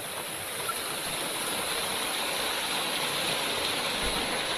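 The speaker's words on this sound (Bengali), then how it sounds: "এই যে দুদিক দিয়ে জল বেরোচ্ছে।" Water pours out of an open dam lock gate on both sides at Tarafeni Dam near Jhargram, a constant broadband rushing roar that stays even and moderately loud.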